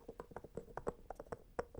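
Soft, rapid light taps on a small glass candle jar, an irregular string of delicate clicks, close and quiet.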